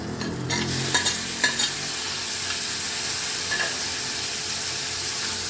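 Onion and green chilli, with tomato going in, sautéing in a pan for a Kerala curry. A steady sizzle with a few stirring clatters near the start, close and alone, with no voices.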